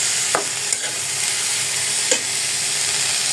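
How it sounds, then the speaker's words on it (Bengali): Potatoes are stirred into fried spice masala in a pan, giving a constant sizzle with a few brief scraping stirs, close and fairly loud, with no talking. "এখন আমি দিয়ে দিব আলুগুলো। দিয়ে ভালোভাবে নেড়ে চেড়ে দিব আর কি।"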